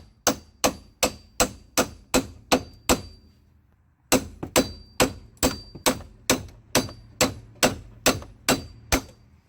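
A small sledgehammer strikes strut bolts on a 2001–2007 Dodge Grand Caravan, landing sharp metallic blows in fast, even runs. One burst of eight hits is followed by a short pause and then a longer steady series, close and loud.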